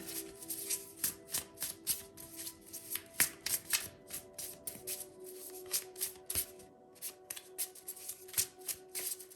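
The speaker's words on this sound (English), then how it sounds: "I just want to pull one more card for your main card right here" Tarot cards shuffled and pulled from the deck, a close, steady patter of crisp riffling flicks and slaps repeating for several seconds with a faint tonal hum underneath.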